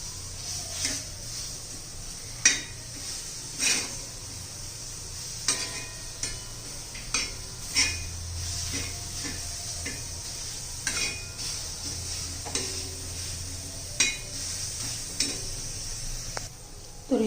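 Mint leaves and chillies dry-roasting in a pan get turned over with a utensil, giving repeated scraping clinks and soft stirring rustles at a close, moderate level over a faint background hum.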